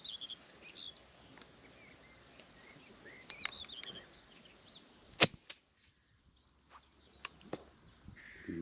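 A single muffled shot from a suppressed Hushpower .410 shotgun cracks sharply once amid quiet field ambience and distant bird calls during crow shooting over decoys.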